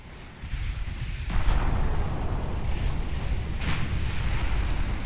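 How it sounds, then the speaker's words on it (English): Warship turret guns fire in the naval game Ultimate Admiral Dreadnoughts: a couple of heavy, muffled booms rise out of a constant deep rumble of sea and wind, with no voices. "Why are you only firing 2 of the turrets?"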